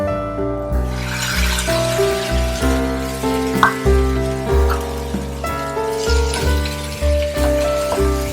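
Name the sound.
tomatoes frying in garlic ginger paste for prawn curry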